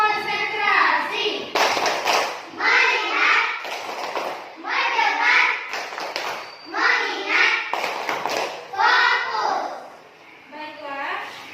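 A class of children performs a rhythmic concentration clapping routine in a classroom, with bursts of clapping that alternate with chanted words in regular phrases, close and loud.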